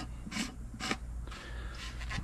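Short rubbing, scraping turns as a plastic stand is screwed onto a Pentair pool salt cell, three or four close bursts of friction with brief pauses between them and no voices.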